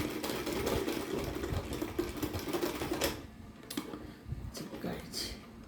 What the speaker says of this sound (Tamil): இதுக்கு படிமான தையல் போட்டுக்கலாம்